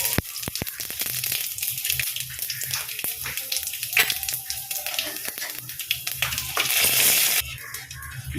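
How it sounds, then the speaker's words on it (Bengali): Bay leaf, radhuni and fenugreek seeds frying in a little oil in a wok, crackling and sizzling with scattered pops and clicks, a louder hiss near the end, with a voice talking over it. "এবার আমি কড়াইতে অল্প একটু তেল দিলাম। এবার আমি তেজপাতা দিলাম আর রাঁধুনি মেথিও দিয়ে দিলাম।"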